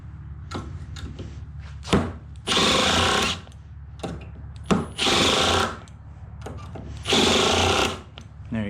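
Three bursts from a Milwaukee Surge impact driver, each running about a second, with a smoother, softer whir than a standard impact driver and clicks and knocks in between.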